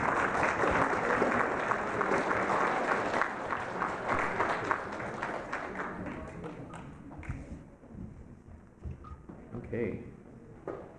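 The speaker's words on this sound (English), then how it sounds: "another round of applause for Teresa" An audience at an education conference applauds, the dense clapping loud at first and then thinning into scattered claps and fading, with voices beneath it.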